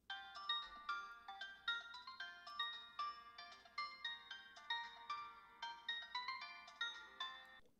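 A phone ringtone plays alone at low volume, a steady melodic pattern of bright repeating electronic tones that loops without pause.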